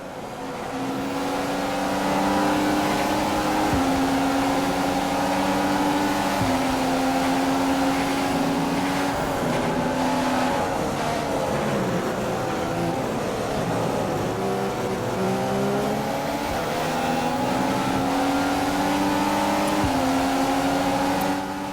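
Formula One race car engine in the F1 2015 video game screams at high revs for about twenty seconds, pitch shifting through gear changes and dipping briefly before climbing again, loud and steady with no talk.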